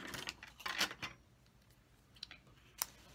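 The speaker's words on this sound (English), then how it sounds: "I'm going to cut a length of the Calypso Coral ribbon here. Get my scissors." A few quick snips of scissors cutting ribbon, a cluster of crisp cuts early on, then a couple of isolated clicks; close and fairly quiet, no talking.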